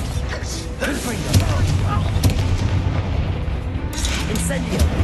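A Confringo fire-blast spell goes off in Hogwarts Legacy as a booming, explosive burst, followed by further rumbling blasts and crackling game effects.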